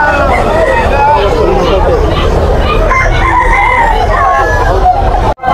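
A young rooster (stag) crows loudly and repeatedly at a busy outdoor poultry market in Malabon, with other fowl clucking and a crowd murmuring in the background throughout.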